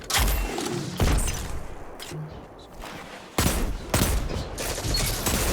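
Bursts of rapid automatic gunfire from a machine gun in the Destiny 2 Rumble mode, loud close volleys separated by brief pauses, with faint voice in the background.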